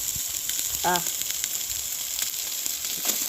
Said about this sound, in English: Here, that sizzle